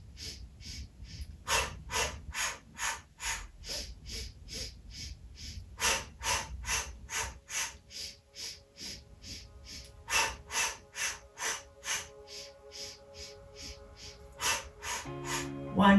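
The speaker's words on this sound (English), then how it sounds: "Now, I'm going to breathe with this last 3 cycles." Sharp rhythmic breaths during a Pilates hundred exercise come as quick percussive puffs in steady bursts, close and clear, with a faint hum of background music.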